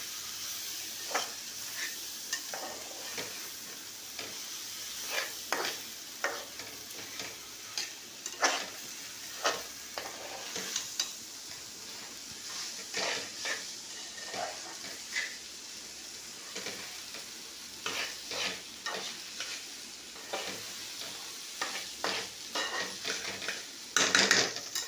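Rice roasts in oil with spices while a spoon stirs it in a pot, producing quiet, intermittent scraping and clinks over a soft, low sizzle.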